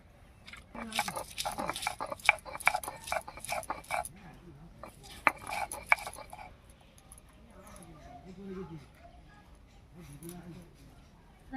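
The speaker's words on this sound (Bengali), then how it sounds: "আদা রসুনটা বেটে নিচ্ছি" Ginger and garlic are ground into a paste at home, giving repeated close, rough scraping and crunching strokes in quick bursts that then turn to softer rubbing, with someone talking throughout.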